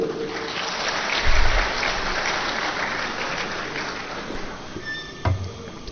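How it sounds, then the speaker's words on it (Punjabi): A crowd applauding at a speech by Bhagwant Mann, a dense wash of clapping that swells early then gradually fades, with a couple of louder thumps. "ਆਪਦੇ ਆਪ ਵਾਸਤੇ ਤਾੜੀ ਮਾਰ ਲਓ ਇੱਕ"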